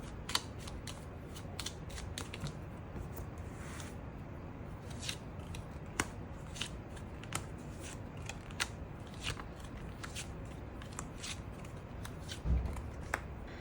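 Tarot cards are shuffled and drawn up close, giving crisp riffling snaps and soft slides in irregular bursts, with occasional sharper flicks as cards are laid out.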